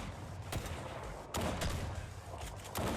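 Shotgun blasts in Fortnite ring out in a few heavy bursts about a second apart over continuous game noise, fairly quiet overall.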